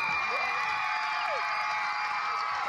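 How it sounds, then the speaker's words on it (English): A steady crowd roar with cheering fills the stands at a Lodi high school football game as a backup kicker makes an extra point, loud and continuous throughout. "how many backup kickers get this kind of applause for kicking an extra point?"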